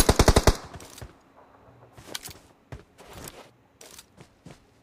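Gunfire from the battle royale game PUBG: a rapid burst of five or six loud shots up front, then scattered single and double shots trailing off at varying distances with sparse gaps between them.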